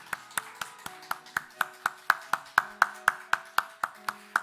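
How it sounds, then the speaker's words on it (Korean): Church congregation clapping in unison to welcome a new minister during a Sunday morning service; about eighteen steady, evenly spaced claps with a faint hum of organ or keyboard tones held underneath. "우리 같이 환영과 축복의 박수를 마음을 담아서 나누겠습니다."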